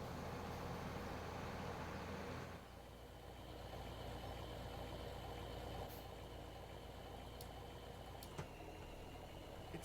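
A tractor engine in the Farming Simulator 17 farming game drones at a steady idle throughout, a constant mid-low hum with a slight dip early on and a few faint ticks on top.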